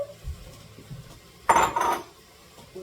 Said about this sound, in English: Okay, I'm going to stir that around.